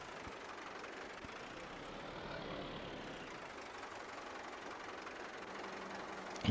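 Tractor engine in Farming Simulator 22 runs at a steady drone for the whole stretch, a dense continuous rumble with no pauses and no talking.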